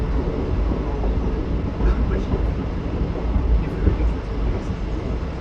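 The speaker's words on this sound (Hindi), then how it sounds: "पहली बार मैं इस रूट पर दिन के उजाले में आज ट्रैवल कर रहा हूँ Ramnagar Aishbagh summer special train से" Ramnagar–Aishbagh summer special passenger train running through forest, a loud continuous rumble from on board with rhythmic wheel clatter and a few faint squeaks on top.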